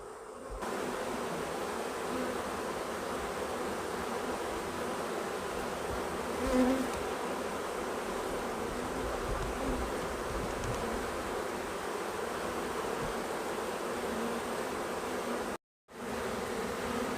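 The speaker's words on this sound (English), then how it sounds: "So there's quite a few bees in the air right now, but I'm sure they'll all go in there." A swarm of honey bees buzzing in the open air, a dense continuous hum from many insects close by, steady throughout with a brief cutout near the end.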